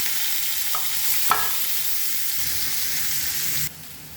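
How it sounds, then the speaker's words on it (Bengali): Fish, a river poa, frying in hot oil with turmeric and salt, giving a steady close sizzle with a couple of brief sharp clinks before it cuts off abruptly near the end. "হলুদ আর লবণ দিয়ে আমি মাছগুলোকে ভেজে নেব"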